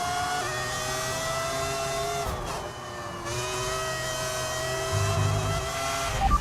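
A simulated V10 Formula 1 engine in Max Verstappen's car at the Dutch Grand Prix in a racing game, a continuous high-pitched whine that holds steady, dips briefly as the car lifts off the throttle, then climbs again with gear changes.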